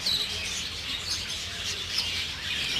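Cockatiel breeding pair calling inside an aviary, a continuous dense wash of chirps and squawks from many birds, steady and fairly close with no voices.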